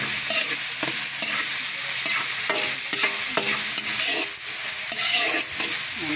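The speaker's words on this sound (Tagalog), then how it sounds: "Ginigisa ko na po yung sahog ng pakbit." Pakbet vegetables and aromatics sauté in a hot pan with a loud, continuous sizzle, while a spatula stirs and scrapes in steady repeated strokes up close.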